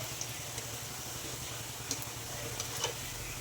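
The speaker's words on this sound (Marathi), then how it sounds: "भजी छान क्रिस्पी हो होईपर्यंत छानपैकी तळायची आहे" Bhaji fritters deep fry in hot oil until crispy, a faint steady sizzle with a few light ticks and pops running throughout.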